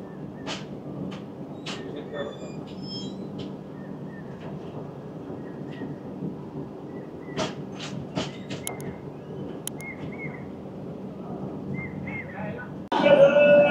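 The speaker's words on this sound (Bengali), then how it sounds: "ট্রেন ছেড়ে দেবে, এবার উঠে গেলাম" Himgiri Express passenger train pulling out and running, with a steady rumbling rolling noise and intermittent clicks and clanks of the carriages, getting louder near the end; no clear talk over it.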